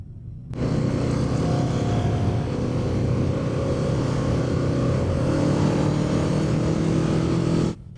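Kawasaki Eliminator 500 cruiser engine while riding, a steady close drone that starts abruptly and holds at an even loud level for several seconds before cutting off, with no talking.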